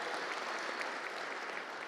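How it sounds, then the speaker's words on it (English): An audience at a ReaperCon miniature painting awards ceremony applauds a Youth Gold award, giving a steady, even patter of many hands clapping throughout, moderately distant and uninterrupted. "that's worth a round of applause right there"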